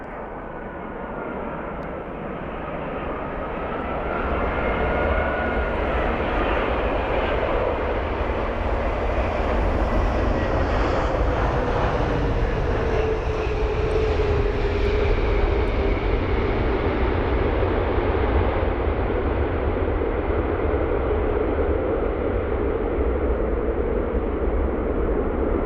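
Singapore Airlines Airbus A380 landing at London Heathrow, a loud, sustained jet engine roar that builds and holds steadily for over twenty seconds as the aircraft passes close by.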